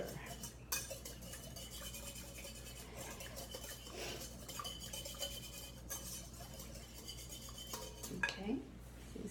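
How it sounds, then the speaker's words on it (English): A utensil stirs a dish in a pan, making faint, irregular metallic scrapes and clinks against the cookware over low background hum, with a couple of slightly louder knocks near the end. "And give it a stir."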